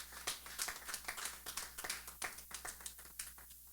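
A church congregation claps in a quick, uneven run of sharp hand claps for about four seconds, moderately close, with no talking over it.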